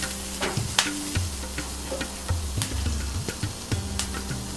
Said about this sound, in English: Gently fry these off for a couple of minutes just so they start going translucent.